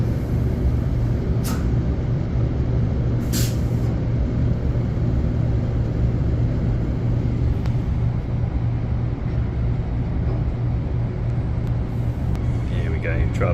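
Train departing Perth Showgrounds station during the Royal Show, a steady loud rumble and hum from on board, with a couple of brief hissing bursts early on and no fade throughout.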